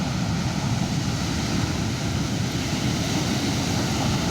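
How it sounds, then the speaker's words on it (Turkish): Steady, loud wash of ocean surf with a constant low roar and broad noise, like waves rolling in continuously with wind, no voices present. "Bu videoda dalga sesi olacak."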